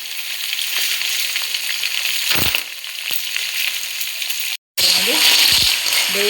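Clams (marwai) sizzle loudly with tomatoes in a pan for Mangaluru-style sukka, a close, continuous frying hiss with a few stirring clatters and a brief cut near the end.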